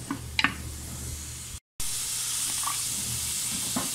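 Garlic drops into a pan of onions, peppers, cinnamon and bay leaves already frying, producing a steady sizzle with a brief break and faint stirring scrapes.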